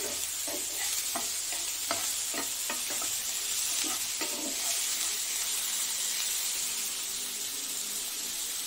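Chicken with ginger garlic paste sizzling in a pan, a steady bright hiss with a run of rhythmic stirring knocks early on, fading to an even sizzle.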